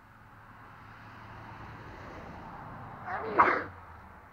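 A single sharp sneeze bursts out near the end after a brief inhaling build-up, close and fairly loud over a low indoor background hum.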